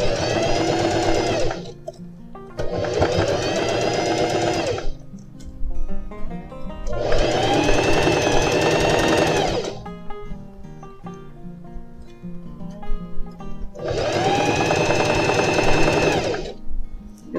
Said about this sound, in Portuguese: Vou seguindo aqui a costura até lá embaixo.